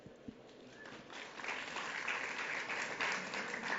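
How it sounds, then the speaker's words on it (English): Applause from a conference audience after a talk on integrating human genetic data, faint and distant at first, then swelling into a steady wash of clapping. "Let's give them a round of applause."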